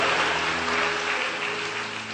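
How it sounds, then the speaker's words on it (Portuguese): A church congregation claps together in a dense, sustained wash of applause that fills the room and fades slightly over two seconds. "Dê um aplauso ao Senhor e libere um grito de liberdade nessa tarde."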